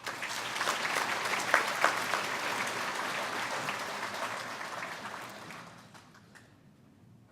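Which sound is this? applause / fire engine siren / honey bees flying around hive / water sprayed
applause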